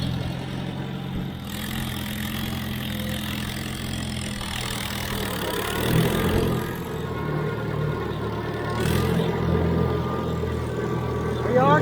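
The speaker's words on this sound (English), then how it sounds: "We are cutting grass." A tractor engine drives a belt-driven PTO mower cutting grass, a loud steady mechanical drone that swells slightly at times, close and continuous with no talking.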